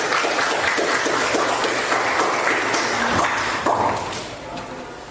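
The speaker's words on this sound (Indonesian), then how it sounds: "Bagus, beri tepuk tangan." Children in a maths classroom clap together on cue, a loud, slightly ragged burst of many small hands close by that tapers off toward the end.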